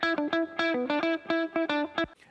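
A funky electric guitar plays short, choppy chords with a gritty, distorted edge in a tight, rhythmic pattern, played alone and up close.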